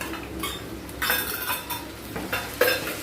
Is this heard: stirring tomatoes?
yes